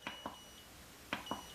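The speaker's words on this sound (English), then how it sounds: "then it gives you the beep signal" A Chi Machine energizer emits two quick pairs of short electronic beeps, faint and close, separated by a short pause, over a quiet background hum.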